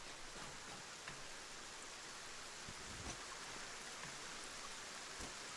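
Rain falls inside a cave in the video game Satisfactory, a steady, soft hiss of patter with scattered faint drips and no voices.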